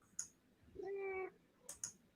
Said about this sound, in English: You guys got the meow, right?